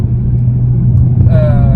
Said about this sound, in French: c'est un moteur qui prend 7300 tours, donc presque 1000 tours de plus que celle-là